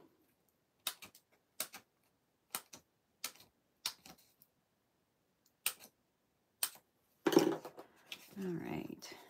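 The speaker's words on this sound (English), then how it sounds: "Oh, let's snip these." Scissors snipping paper card pieces for a stamped Christmas card, a series of faint, crisp single clicks spaced about a second apart, followed by a louder bump and rustle at the end.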